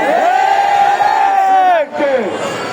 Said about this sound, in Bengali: তাকবীর বাংলাদেশের সকল জনতার স্লোগান